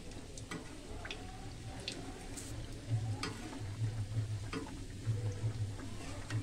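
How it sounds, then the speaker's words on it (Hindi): Homemade patties frying in oil in a pan give off a steady, moderate sizzle with crackling pops and light spatter, along with a low bubbling undertone. No one speaks over it. "एक तरफ पकने के बाद आप ऐसे फ्राई करना है।"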